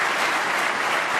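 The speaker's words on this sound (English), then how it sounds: "both parents applauding that shot" Crowd applause for a shot in the final frame of the 2015 World Snooker Championship final, Bingham versus Murphy; a brief, steady burst of dense clapping filling the arena.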